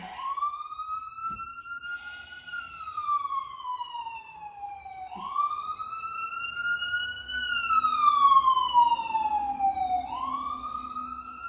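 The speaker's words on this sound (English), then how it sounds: "how interesting that the sirens just are going by right now" A police siren wails in long rising and falling sweeps, moderately distant, repeating several times over a faint background.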